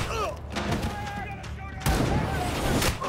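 Sniper gunshots ring out in a film scene, a few sharp broadband cracks standing out against a dense, noisy action soundtrack.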